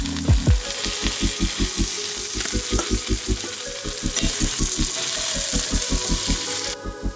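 Boiled potatoes added to masala frying in a pan for masala dosa, with a continuous sizzle under a rapid, regular mechanical buzzing that runs throughout at moderate loudness.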